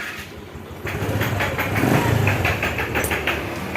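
A freshly reassembled motorcycle with oil escaping through its air-filter hose is started; after a short crank the engine catches near a second in and settles into a close, steady, throbbing idle.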